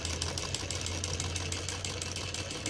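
A sewing machine stitches a suit design with a close, continuous, fast mechanical whir and a low, steady hum.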